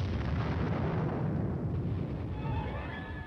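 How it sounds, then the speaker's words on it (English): Continuous rumbling artillery air bursts over a battlefield as armor and infantry advance, a loud, dense roll of distant blasts with no clear gaps between them. "Under the cover of continued artillery air bursts, the team advances."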